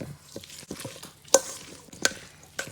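Seasoned food being stirred and tossed by hand in a bowl, with soft irregular scraping and a few sharp clinks of utensil against the bowl, close and fairly quiet.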